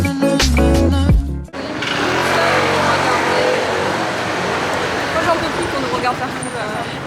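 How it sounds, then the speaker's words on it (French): Motor scooter engines buzz and whine past on a busy street in Naples, Italy, one close rev followed by a steady wash of traffic noise. "Les bruits de Naples, c'est le bruit du scooter."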